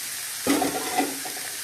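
Potatoes drop into a hot pan for egg gravy, a sudden sizzling burst followed by steady frying hiss with a couple of brief stirring knocks, close and with no talk.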